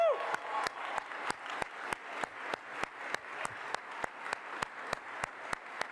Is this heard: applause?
yes